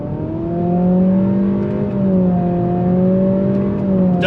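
A 2023 Acura Integra with a CVT pulls hard on throttle, its steady engine drone holding a near-constant pitch with only slight rises and dips like simulated gear shifts, loud and close throughout with a touch of tire spin.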